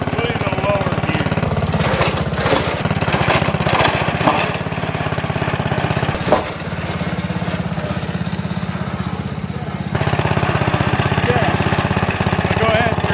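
Lawn tractor engine running steadily with its mowing deck removed, a continuous close, loud mechanical drone with a brief dip midway, while people talk over it.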